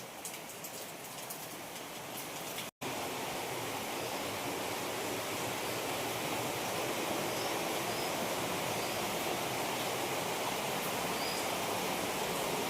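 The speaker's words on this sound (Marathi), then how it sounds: "दुसऱ्या पंदलची पण बघा काय धार. भरपूर पाऊस." Heavy rain pours down steadily outdoors as a monsoon downpour, a dense continuous roar with no voices, broken only by a momentary dropout near the start.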